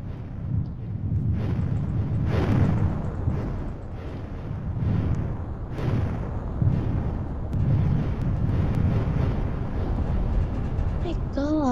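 Bombs go off in a Roblox dig-to-China game, a steady run of muffled booms and rumbling blasts repeating every second or so at moderate loudness, with a voice talking over them.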